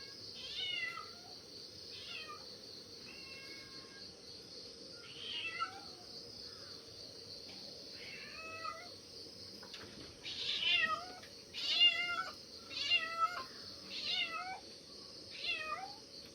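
A neighbour's cat meows loudly and repeatedly in insistent, drawn-out cries spaced a second or two apart, growing more frequent toward the end, heard close over a low steady background hum.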